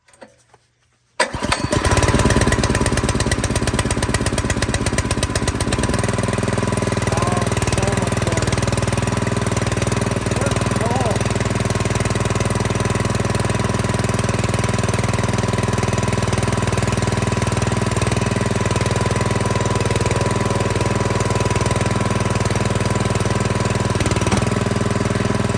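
Predator small gasoline engine on a wood splitter starts after about a second of quiet, then runs steadily and loudly near the listener for the rest of the stretch, with a constant drone and no voices.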